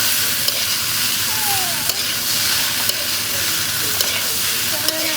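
Cauliflower stir-frying in a hot pan with green chillies and chilli powder, a steady close sizzle with occasional scraping stirs of a spatula, continuous throughout.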